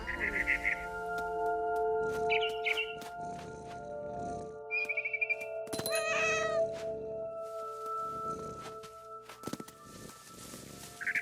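A cat meows repeatedly in the video game What Remains of Edith Finch, with several drawn-out, wavering calls close up, set against a steady background hum and faint ambient tones.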